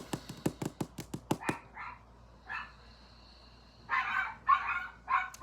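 A small dog barks in a fast run of sharp yips, then gives a few whiny, higher-pitched whimpers and short yelps, heard close and alone in a quiet room.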